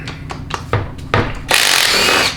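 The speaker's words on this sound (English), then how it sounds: "let's go ahead and remove center support feed bolt" A power tool works loose the center support feed bolt on a 4L80E transmission during teardown, with several short bursts followed by a longer, louder whirring run, close up and without talk.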